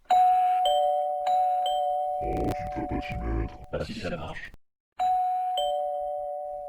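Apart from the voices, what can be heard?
doorbell ringing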